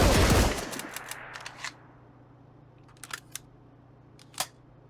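A hip-fired weapon in the video game Marauders lets off a loud burst of gunfire at the start, followed by a low hum and a few sharp mechanical clicks and snaps.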